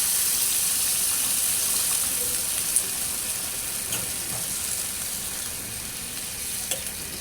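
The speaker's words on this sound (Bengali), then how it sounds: "আমি এখন পানি দিয়ে দেবো" Water pours and hisses into a hot pan of boiled potatoes for a silver carp curry with yardlong beans, a steady sizzling gush with a few small clinks and no talking.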